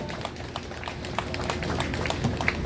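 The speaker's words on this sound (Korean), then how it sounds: "여러분들도 다시 한번 큰 박수, 응원의 박수 보내주십시오" Audience applause at a Korean commemorative gathering after a lawyer's speech: a dense, steady wash of many hands clapping, close and continuous throughout.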